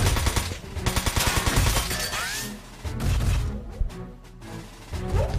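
Rifle shots in the PS2 game Front Mission 4, a rapid run of loud shots early on followed by crashes and intermittent blasts amid game sound, with no talk.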